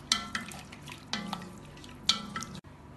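Basmati rice with four cups of boiled water being stirred in a pot for Eid biryani, with a few distinct scraping strokes of a spoon against the pot over a low simmering bubble, close and moderately loud.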